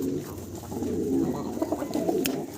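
A pair of fancy pigeons, male and female, coo up close in soft, rolling, repeated phrases that continue throughout with no talk.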